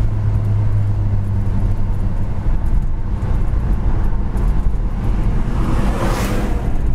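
Steady engine and road rumble from a 1970 Dodge Super Bee on the move, with the engine note swelling briefly near the end as the transmission kicks down and it accelerates.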